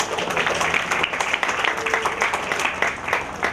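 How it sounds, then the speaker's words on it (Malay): A crowd at a public arts space opening in Shah Alam breaks into applause, a moderate, continuous patter of many hands clapping with a slightly uneven rhythm throughout. "tolong beri tepukan"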